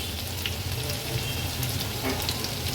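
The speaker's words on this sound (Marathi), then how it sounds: "आलं लसूण क्रश ऍड करते 2 चमचे। तेलावर थोडासा परतून घ्यायचा आहे" Two spoons of crushed ginger-garlic paste frying in hot oil with a torn bay leaf, a steady, soft, hissing sizzle that runs evenly throughout with no talking.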